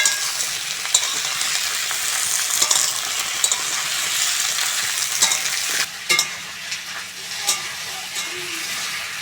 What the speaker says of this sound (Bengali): সিম আলু বেগুন ভালো করে ভেজে নিয়েছি